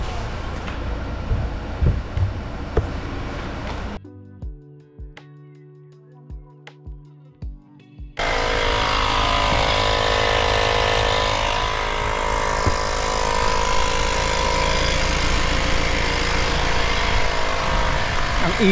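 A portable air pump inflates a flat tire on a stuck Subaru WRX. It makes a loud, steady mechanical drone that carries on for about ten seconds after a short quieter gap with a few knocks.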